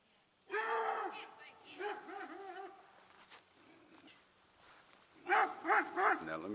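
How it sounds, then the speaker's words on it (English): A dog barks in a front yard, with a burst of barking near the start and another run of sharp barks near the end, while someone talks throughout. "Now, my dog comes out."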